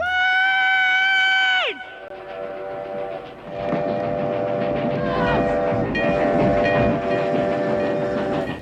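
A train on the Death Railway in Thailand sounds a long, loud horn blast, then rumbles and clatters past steadily with rhythmic wheel noise and squeal, a voice faintly audible underneath.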